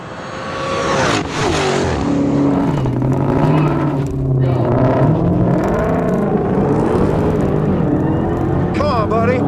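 A Dodge Hellcat Redeye roars through a drag race launch with wheel spin, its engine loud and sustained with rising and falling revs, while a voice talks over it.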